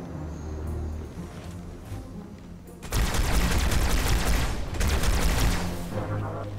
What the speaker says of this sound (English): Not very nice with their fuel rod cannon.